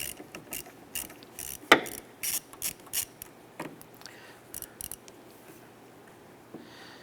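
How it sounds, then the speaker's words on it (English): A ratchet with a 10mm socket and extension loosens the negative battery terminal nut on a 2015-2020 Cadillac Escalade, giving quick bursts of clicking pawl strokes separated by short pauses, close and fairly quiet. "Using a 10mm socket and extension, we're going to loosen the nut on our negative terminal on the battery."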